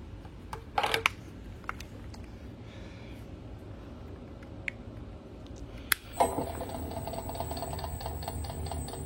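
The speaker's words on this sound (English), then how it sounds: "So now we just need to turn this thing on, pump to the right." Electric pump switched on to transfer grape must from a fermenting tank: handling clatter and a few clicks, then a sharp start at six seconds into a steady mechanical whine and hum running close by.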